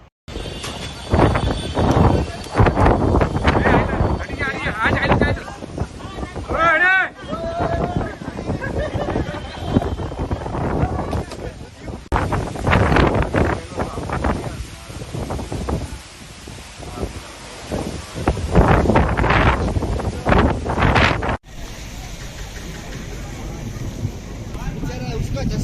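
Strong storm wind with heavy rain during an unseasonal storm in Navsari that brought down power poles, heard as a loud, steady roar and rush of noise over nearly half a minute, with people talking throughout.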